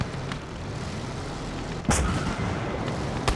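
Gunfire and artillery booms from a World War II game on the Eastern Front, with a steady rumbling battle background and two sharp, loud shots standing out.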